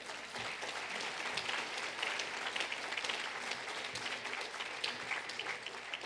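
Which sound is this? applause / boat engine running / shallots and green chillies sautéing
applause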